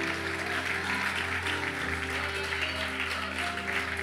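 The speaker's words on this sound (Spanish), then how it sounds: "Dale otro aplauso a Dios" A church congregation applauding, a dense sustained wash of clapping from many hands over a steady low hum, continuous for a few seconds without spoken words.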